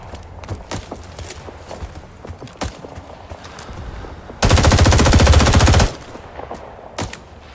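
A sustained burst of rapid machine gun fire in the Rising Storm war game, loud and close, lasting about a second and a half, surrounded by scattered single shots and distant battle noise.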